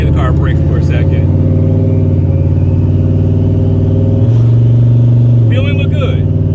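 A turbocharged SN95 Ford Mustang engine pulls hard under acceleration, a loud, steady droning rumble whose pitch shifts as it climbs through a gear, with faint talk briefly audible over it.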